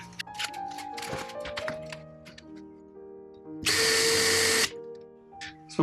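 A power drill bores through campervan curtain fabric in one sustained, loud burst of whirring lasting about a second, preceded and followed by quieter clicks and tool handling.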